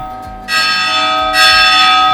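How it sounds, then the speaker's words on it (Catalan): A village church bell strikes the quarter hour, two resonant rings sounding loud and close, each leaving a long humming ring with no voices. "Les campanes diuen els quarts."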